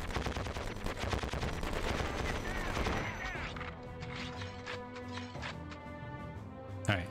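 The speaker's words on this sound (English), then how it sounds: "See, it's getting easier to shoot these tanks." Gunfire against tanks in the Conflict: Desert Storm video game, with dense rapid shots and crashing impacts through the first three seconds, then quieter scattered bursts and a final sharp bang.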